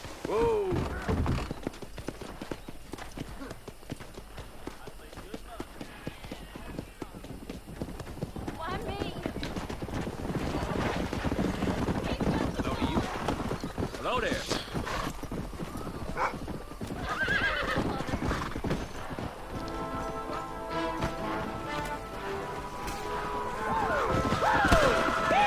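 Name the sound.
horse hooves in a video game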